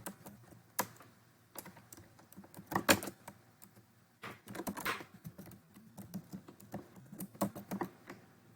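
Keys clatter on a computer keyboard in bursts of typing with short pauses, close and moderately quiet, as a name is entered for a video project.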